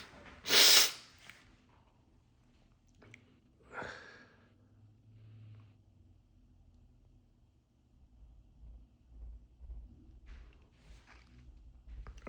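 A big, explosive human sneeze bursts out near the start, followed by a second sharper sneeze or snort and then quieter breathing and sniffles, close and otherwise quiet apart from faint low rumble.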